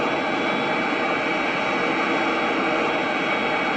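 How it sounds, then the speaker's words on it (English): Airplane jet engines in a flight video game roar loudly and steadily throughout, a dense unbroken wash of engine noise with no talking. "As you can see, the engines are pretty powerful."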